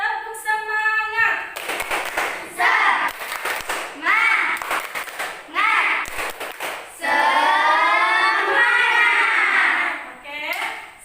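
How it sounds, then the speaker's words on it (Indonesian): Classroom of students performs a rhythmic spirit clap, with bursts of patterned clapping broken by short pauses and children's voices chanting and talking throughout, closing on a sustained shout. "Ayo, tepuk semangat."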